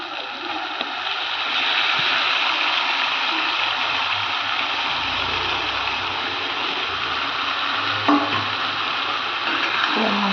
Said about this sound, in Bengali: এই যে বন্ধুরা পেঁয়াজটা হালকা করে ভাজা হয়ে গেছে, এবার ম্যারিনেট করা মাংসটা দিয়ে দেবো